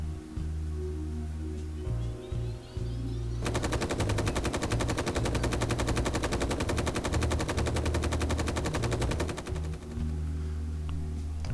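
Rapid machine-gun fire in Space Engineers, a long, steady stream of evenly spaced shots over a constant low mechanical hum, starting after a few seconds and running loud for about six seconds.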